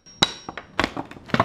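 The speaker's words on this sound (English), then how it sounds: "the sound of that tile popping up is oddly satisfying" Ceramic floor tile being popped up with a hammer and hatchet: four or five sharp, close impacts and cracking clinks in irregular succession, with brief ringing between strikes.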